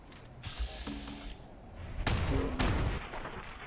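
Two sharp shotgun blasts from Fallout 4, about half a second apart, loud and close with rumbling tails, after a brief stretch of game ambience and soft effects.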